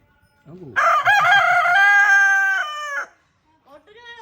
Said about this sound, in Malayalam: ഓരോ കോഴികളും പറയുന്നതിനനുസരിച്ച് കൂവുന്നു